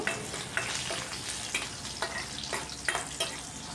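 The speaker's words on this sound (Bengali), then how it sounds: "রসুন কুচিটাকে একটু ভাজা ভাজা করে নেব।" Chopped garlic frying in mustard oil in a kadai used earlier for frying eggs, with a steady crackling sizzle and repeated light stirring taps and scrapes, nearby and without talk.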